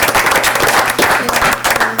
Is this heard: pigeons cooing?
no